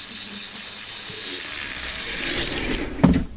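A thick metal scraper works across carving wax to remove heavy scratches, a close, continuous hissing scrape with a sharper knock near the end.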